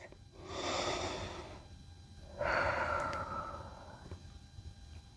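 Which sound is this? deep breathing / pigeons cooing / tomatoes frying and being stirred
deep breathing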